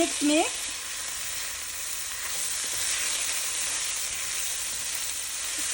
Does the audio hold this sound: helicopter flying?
no